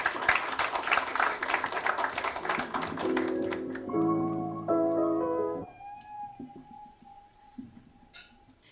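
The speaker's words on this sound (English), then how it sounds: "Round of applause for her." Applause from a crowd at an evening awards report launch for about three seconds, fading out as a sequence of bright electronic chime tones plays, then quiet.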